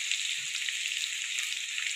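A curd and mango mixture sizzles steadily in a hot pan while being stirred, a continuous close, bright frying crackle with no voices.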